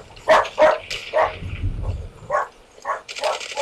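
A dog barks several times in short yips and woofs inside a Battlefield game, close and loud, with a low growl midway and a voice faintly underneath.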